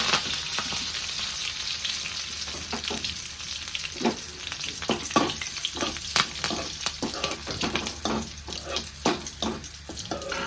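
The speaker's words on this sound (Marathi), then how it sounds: "फोडणीसाठी मी थोडंसं तेल ठेवलेलं आहे एक चमचा जिरी टाकून घेतली" Cumin and a green chili tempering sizzle in a little oil, a close crackling fry with frequent sharp pops and stirring scrapes, no voices.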